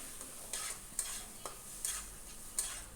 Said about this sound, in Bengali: এবার এটাকে ভালো করে একটু নেড়ে নিচ্ছি যত কড়াইতে যতক্ষণ না জলটা টেনে আসছে